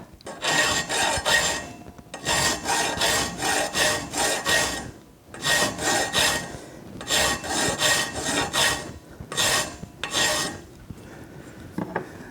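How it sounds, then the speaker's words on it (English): A half round file rasps back and forth on a mitered steel chainstay tube for a gravel bike frame in a workshop, loud close strokes in rhythmic bursts of several passes separated by short pauses, no talking. "I have a half round file. So I'm putting the file in it so that it nestles into the miter like that, and then I'm going to angle it up and file."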